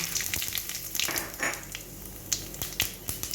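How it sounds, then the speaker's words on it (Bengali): Dry red chili, white cumin seeds and a bay leaf sizzle in hot oil for a tempering, giving a steady close frying hiss broken by sharp crackles and pops. "আমি এবার এর মধ্যে একটা শুকনো লঙ্কা, একটু সাদা জিরা আর একটা তেজপাতা ফোড়ন দিয়ে দেবো।"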